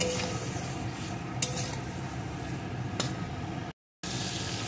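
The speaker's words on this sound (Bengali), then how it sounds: "এখন এগুলোকেও একটু সুন্দর করে কষিয়ে নেব।" Bitter gourd with turmeric, salt and slit green chilies being sautéed in a pan, a steady soft sizzle with the occasional scrape of a stirring spoon, close and continuous.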